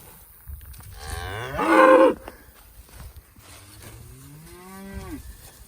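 Angus cows moo in a pasture during fall calving, several drawn-out calls with rising and falling pitch, one loud and close, others softer and farther off, with no talking.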